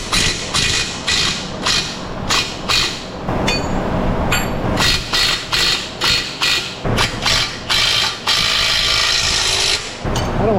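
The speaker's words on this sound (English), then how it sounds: "Now we'll loosen the bottom bolt." Ratchet loosening the bottom bolt on a car suspension in an auto repair shop, a long run of rapid, loud, close mechanical clicking bursts in a steady rhythm with brief pauses.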